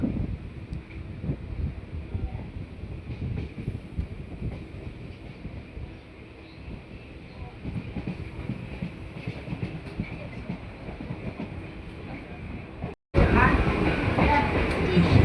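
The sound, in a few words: train running on tracks from Majerhat to Barasat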